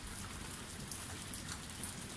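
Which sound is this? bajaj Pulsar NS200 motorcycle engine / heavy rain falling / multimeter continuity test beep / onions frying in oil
heavy rain falling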